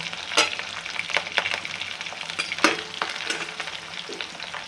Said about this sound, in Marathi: हा जो बटाटा आहे तुम्ही व्यवस्थित जो आहे हा परतून घ्यायचा आहे